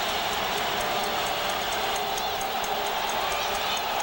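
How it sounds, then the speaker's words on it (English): Roaring football stadium crowd at a Hawaii Warriors versus Boise State Broncos game, a dense, steady wash of cheering and shouting that fills the whole stretch without a break. "The crowd is going to get wild."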